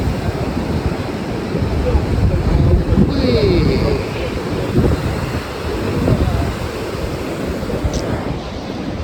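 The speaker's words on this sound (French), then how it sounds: "c'est des vraies vagues." Ocean surf at Biarritz beach, a steady broadband wash of breaking waves with wind rumble on the microphone, while people talk and exclaim excitedly over it.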